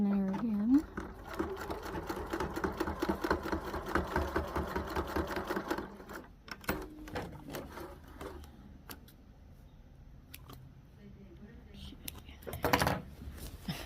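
A sewing machine runs in a fast, steady stitching burst while hemming a utility kilt during a waist alteration, then stops and gives way to quieter handling clicks and fabric rustles.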